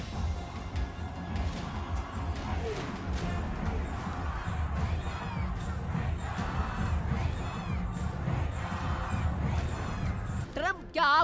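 A dense crowd on an Iranian street shouts slogans continuously and loudly, voices overlapping in a steady roar with rhythmic chanting bursts throughout.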